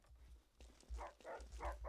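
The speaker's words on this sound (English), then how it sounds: "Oh, there's dogs." Dogs barking in Fallout 3, a few short barks in quick succession toward the end, fairly faint and somewhat distant within the game's ambience.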